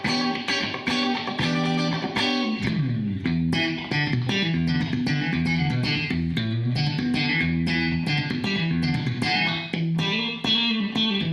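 Funk guitar chords run through the compressor of a Mooer Black Truck pedal, a steady, evenly levelled stream of bright rhythmic strums and chord changes with little dynamic swing, played alone and up close.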